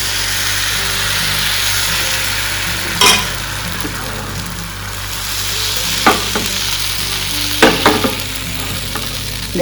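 Appam batter sizzling steadily in an oiled pan, a continuous close frying hiss with a few brief clinks and scrapes of utensils, no talking.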